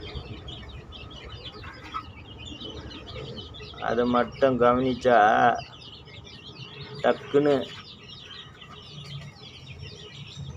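Chickens cluck and murmur close by, in a few short bursts of calls with quieter gaps between them, while a person talks softly in the background.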